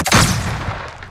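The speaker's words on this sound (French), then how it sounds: "Sending a flashbang." A flashbang grenade in the video game Warzone goes off close and loud, a sharp bang spreading into a broad hissing, ringing wash that slowly fades over about a second.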